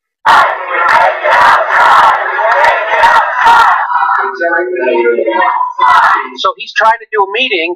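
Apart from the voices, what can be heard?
crowd outside chanting "Take it outside" at a town hall meeting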